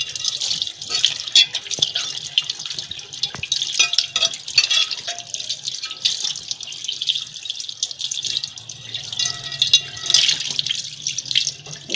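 A new iron cooking pot is rinsed under a running tap with no soap, giving a steady hiss of flowing water with scattered clinks and splashes against the metal throughout.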